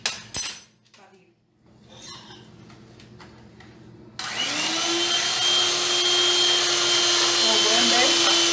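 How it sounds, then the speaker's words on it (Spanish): An electric mixer whips a coffee drink, starting abruptly after a few quiet clinks and then running as a loud, steady high-pitched whir that continues to the end. "ya estamos batiendo lo que sería nuestra bebida de café"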